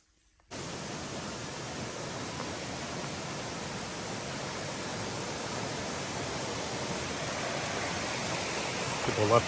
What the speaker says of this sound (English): But this creek flows into the lake right here.